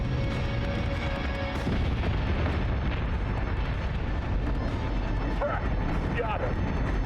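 Ship weapons fire in a space battle from the game Battlestar Galactica: Deadlock, a dense, rumbling barrage of booms that runs the whole time under radio-style voices.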